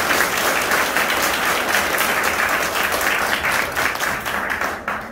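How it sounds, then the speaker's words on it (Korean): Welcoming applause from members at a Rotary club officer installation ceremony in Gwangju, a dense steady wash of clapping that holds for about five seconds and then starts to thin. "특별히 오늘 우리와 함께 하시는 신입 회원 5명에게 환영의 박수를 다 같이 한번 보내줍시다."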